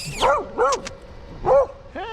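A dog barks on a hillside path, three or four loud, close yips and woofs spaced through the moment, with engine or motor noise low underneath.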